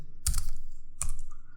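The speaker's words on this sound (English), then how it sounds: "So I will type the method here" Two short bursts of typing on a computer keyboard, crisp and close, each a quick cluster of key presses with a brief pause between, no voices.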